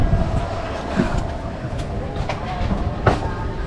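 At an Indonesian station on the Tangerang to Bandung route, a standing train gives off a constant low rumble with occasional knocks and clanks, and faint voices sit in the background.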